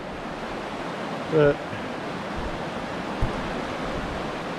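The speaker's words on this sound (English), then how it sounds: "have a look how fast that 200 millimeters of water is flowing" Shallow floodwater about 200 millimetres deep rushes fast across a road, a steady broadband roar of flowing water, with a brief spoken word and a small knock in the middle.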